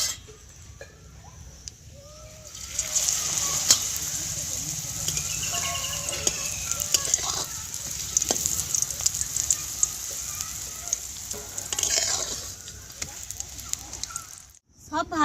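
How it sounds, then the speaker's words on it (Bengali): More papads fry one after another in hot oil in a kadai, a loud continuous bubbling sizzle with crackles and faint voice-like tones over it, before it drops to quiet near the end. "এই একই রকম ভাবে সব কটা ভেজে নেব"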